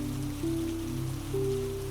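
Constant rain falls in a soft, even wash, steady and unbroken at moderate level, with a low tonal hum underneath.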